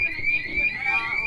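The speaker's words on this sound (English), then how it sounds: "at least I won't get a copyright strike for this alarm" A steady, piercing fire-alarm tone sounds continuously inside a restaurant, a high sustained pitch running loud and unbroken with faint room murmur beneath.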